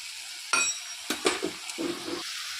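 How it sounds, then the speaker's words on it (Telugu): Sliced onions with green chillies tossed into a hot pan for cabbage Manchurian, a few short clattering stirs and scrapes over a soft, steady sizzle, close and clear with no talk. "కొంచెం ఉల్లిపాయలు వేసుకొని వేపుకోవాలండి ఈ క్యాబేజీ మంచూరియాకి"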